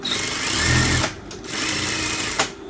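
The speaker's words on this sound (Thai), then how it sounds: "แล้วเราก็เย็บทับ" A sewing machine stitches down a shirt hem folded about one centimetre during a size alteration, running in two close, loud bursts of rapid mechanical whirring with a short pause between them.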